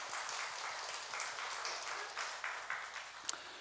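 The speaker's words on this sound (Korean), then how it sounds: "우리 박수로." During a Sunday worship service, a church congregation gives a soft, distant round of applause. The clapping is steady, with one sharper clap standing out near the end.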